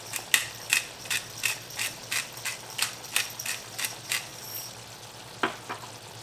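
A pepper grinder turned over a shrimp dish in sundried tomato and spinach cream sauce gives a run of quick, crisp ratcheting crunches at a steady rhythm, close and fairly quiet, with no talk.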